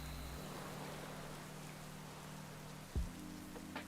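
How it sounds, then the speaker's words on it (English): Steady rain patter with a soft hiss runs throughout a Pokémon VGC battle, over a low game hum, with a brief thud near the end. "We've got rain for another 3 turns."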